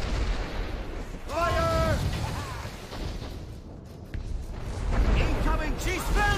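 Ship cannons firing in a naval battle in Assassin's Creed Rogue, heavy booms and rumbling blasts mixed with shouted commands as crew members talk over the gunfire.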